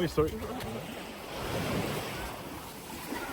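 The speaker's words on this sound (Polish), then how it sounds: "No i co ty myślisz, Bigosław, o morzu?" Sea waves and gusty wind on a beach make a broad wash of surf with wind buffeting the microphone, a soft swell rising in the middle, and a brief voice near the start.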